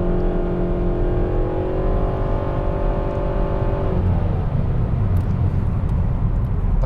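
Suzuki Kizashi with a CVT transmission accelerating hard, its engine holding a steady rising drone with smooth, stepless pitch climbing and no gear-change breaks, then settling into road and wind rush.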